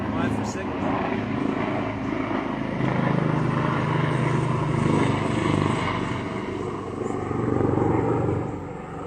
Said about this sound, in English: We've got a helicopter going over us at the moment